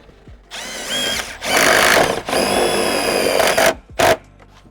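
A power drill drives screws to fit a window shade in a camper van conversion: three or four loud, close whirring bursts of a second or so each, separated by short pauses, the motor pitch shifting as each screw bites.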